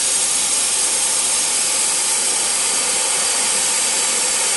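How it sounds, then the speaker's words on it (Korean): Compressed air is blown through a small engine to clear out leftover fuel, a loud, steady, close-up hiss that runs unbroken from start to finish with no voices. "한번 에어를 불어보세요."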